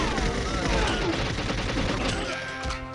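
Dense, continuous automatic gunfire fills GoldenEye 007 on the N64, a loud rapid fusillade of overlapping shots with crashing impacts that thins out slightly near the end.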